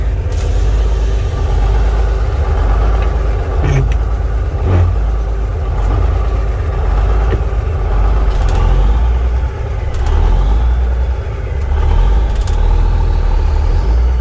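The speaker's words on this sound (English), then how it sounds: "let's just take it for a quick ride up the driveway" A Jolly Green Freightliner cabover truck with a Big Cam Cummins diesel rumbles along a driveway, its loud, deep engine drone heard steadily from close inside the cab with small rattles and clunks.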